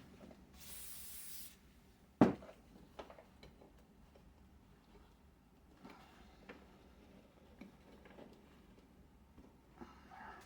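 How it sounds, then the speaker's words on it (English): A short burst of aerosol spray hisses early on, followed by quiet handling clicks and soft taps in a calm room. "let me spray this one more time"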